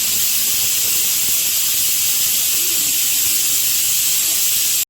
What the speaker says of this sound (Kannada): ಇವಾಗ ಕುಕ್ಕರ್ನ ತೆಗಿತಾ ಇದ್ದೀನಿ.